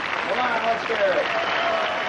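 A concert audience applauds a live spoken-word show at the Clinton Museum, with steady dense clapping sustained throughout and a few whistles rising over it.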